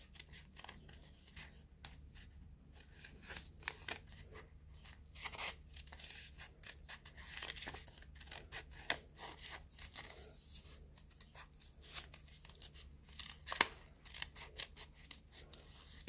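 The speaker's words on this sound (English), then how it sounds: "So let's cut it out carefully and see what it looks like." Scissors snipping through paper to cut out a shape, close and fairly quiet, with irregular short cuts and rustling of the sheet between snips.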